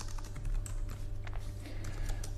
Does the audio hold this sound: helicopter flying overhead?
no